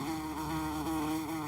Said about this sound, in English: The bee! The bee!